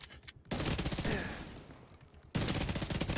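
Bursts of flame-round gunfire in a video game crackle in dense, rapid volleys, with a short lull before a second loud stretch of firing.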